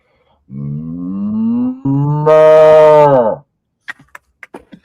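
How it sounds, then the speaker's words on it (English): A long, loud cow moo rises in pitch and swells over about three seconds, followed by a few faint clicks and taps. "can we get the cow sound?"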